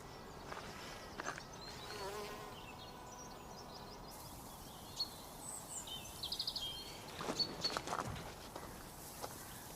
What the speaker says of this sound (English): providing for the butterflies, the hoverflies, the bees, the wasps that are all around me.